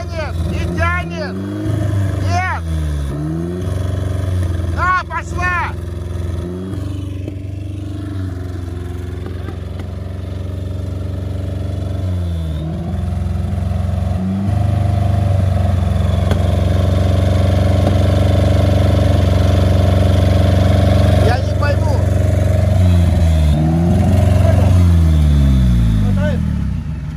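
A UAZ Patriot stuck in mud revs its engine hard, the pitch repeatedly climbing and falling as the engine strains, loud and close, while people shout over it.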